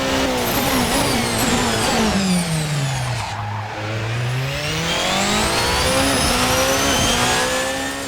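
A race car in a video game screams at over 350 km/h, its loud engine note dipping as it shifts and then climbing again with rising harmonic whine, sustained and close throughout.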